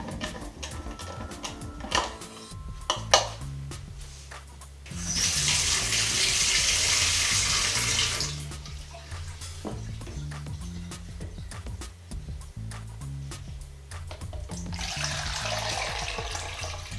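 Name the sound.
tap water rinsing developed film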